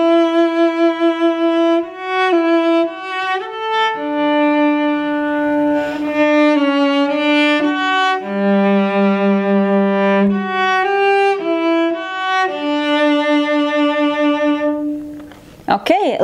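Solo cello plays a phrase of a song, a slow, sustained melody of bowed notes stepping up and down, close and clear with no talking, ending in a short bow scrape.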